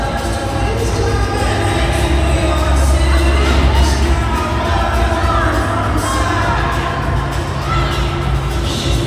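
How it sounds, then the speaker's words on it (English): A hockey arena crowd applauds and players tap their sticks on the ice as an injured player skates slowly to the bench, a loud sustained wash of clapping and cheering with scattered sharp knocks. "Stick claps and applause from the crowd as he makes his way slowly over to the bench."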